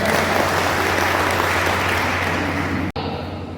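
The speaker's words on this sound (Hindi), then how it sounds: "जोरदार तालियों से आपको स्वागत करें।" A crowd at an Ambedkar Jayanti event gives loud, dense applause to welcome a former minister, a continuous roar of clapping that cuts off abruptly near the end.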